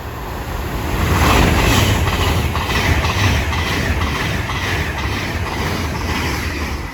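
A West Coast passenger service from Manchester Piccadilly to London Euston runs through Watford Junction station, giving a loud, close, continuous rumble with rhythmic wheel clatter and no talk.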